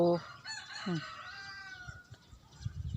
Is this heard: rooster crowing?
yes